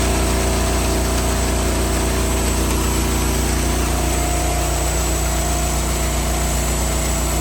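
A farm engine runs steadily while a fertilizer tender empties into a spreader, a loud, close, continuous low rumble and drone that holds without a break before cutting off at the end.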